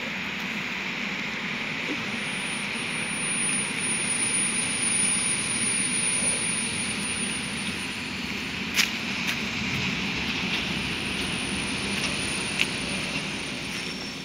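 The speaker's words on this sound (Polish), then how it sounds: "To pociąg Regio." An EN57 Regio electric multiple unit passes on a Polish line, giving a sustained broadband rumble and hiss that swells and holds, with faint clicks of wheels over rail joints, heard from trackside at moderate distance.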